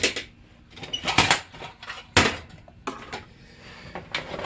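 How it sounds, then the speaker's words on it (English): A drill bores pilot screw holes into wood while fitting a quick release to a Thrustmaster F1 racing wheel, giving several short, close whirring and cracking bursts with pauses between them. "I will pre-drill them right now"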